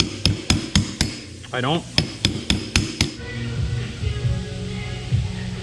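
A hammer strikes the front shock springs of an ATV in a steady series of sharp, ringing metallic taps, close and loud. A short voice comes in midway, and low workshop noise carries on after the tapping stops.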